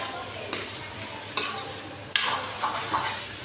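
Goat mutton being cooked village-style into a butter gravy is stirred in a kadai, with three sharp metallic spoon strikes against the pan, each followed by a spreading sizzle, plus a couple of softer scrapes at the end.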